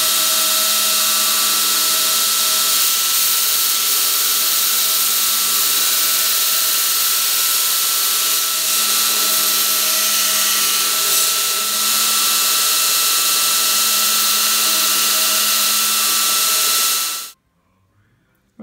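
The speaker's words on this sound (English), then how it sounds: "We're going to do that on this 2x72 grinder." A 2x72 belt grinder refines the profile of 80CrV2 steel knives, a loud, steady whirring grind with a tonal hum that holds for about seventeen seconds and then cuts off abruptly.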